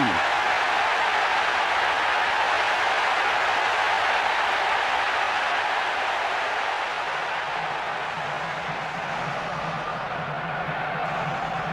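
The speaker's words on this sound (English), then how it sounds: "This crowd is making so much noise." Steady, dense stadium crowd roar from the football video game Pro Evolution Soccer 4, a continuous loud wash of cheering and applause with no breaks.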